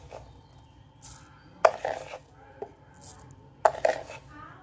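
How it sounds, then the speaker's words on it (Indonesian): A few distinct clinks and scrapes of a tablespoon adding sugar to a glass, spaced apart with quiet gaps, close by and fairly soft. "masukkan gula ke dalam gelas 1 sebanyak 4 sendok"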